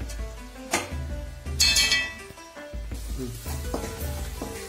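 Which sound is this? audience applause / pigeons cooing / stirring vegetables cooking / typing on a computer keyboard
stirring vegetables cooking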